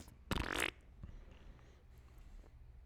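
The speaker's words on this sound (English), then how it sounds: "It's just a fart noise." A single short, buzzy fart-like raspberry bursts out loudly for about half a second, likely blown by a mouth during a wrestling podcast, then gives way to faint room noise.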